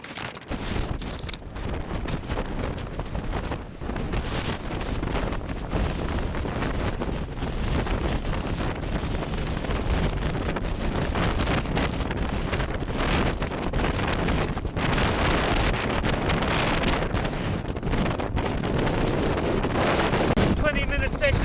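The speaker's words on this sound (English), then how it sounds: "This is the wind we have. It's called a Levante. It's severe" Severe Levante wind blowing hard across open sea near Gibraltar, a loud, constant roar of gusts buffeting the microphone over rough water, steady throughout with no letup.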